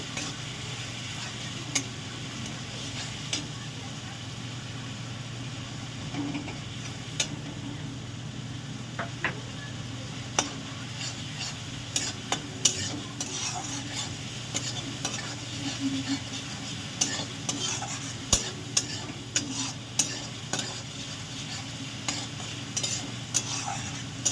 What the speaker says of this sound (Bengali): পেঁয়াজটাকে আমি বাদামি করে ভেজে নিচ্ছি